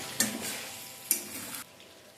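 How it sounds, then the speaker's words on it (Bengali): Chicken pieces with ginger-garlic paste being stirred in a pan for Peshawari chicken, with two bursts of spoon scraping over a low sizzle, then a quieter stretch. "এবার মাংসের সাথে আদা রসুনটা খানিকক্ষণ একটু নাড়াচাড়া করে নেব যাতে কাঁচা গন্ধটা চলে যায়"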